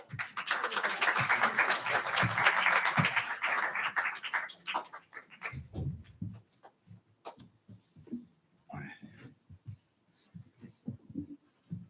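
A church congregation at a Belvedere service claps for Mr. David Okamoto. A burst of moderate applause lasts a few seconds and quickly dies away into scattered claps, shuffling and room noise.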